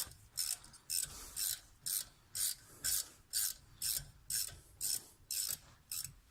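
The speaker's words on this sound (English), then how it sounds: "loosen up these 7mm Allens back here" A ratchet wrench clicks in a steady, regular rhythm, about two strokes per second, while loosening the 7mm Allen bolts on a BMW E60 front brake caliper, close and fairly quiet.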